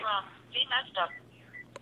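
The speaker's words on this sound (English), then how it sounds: "the phone's ringing here" A telephone rings in short electronic bursts beside a person talking, loud and close in a quiet room.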